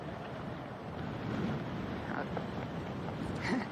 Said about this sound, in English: A really massive gust just coming up right now.